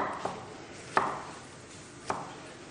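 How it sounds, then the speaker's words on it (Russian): Three sharp knife chops against a board as fruit is sliced into wedges, spaced about a second apart, close and fairly quiet with no talking. "Теперь нарезаем дольками"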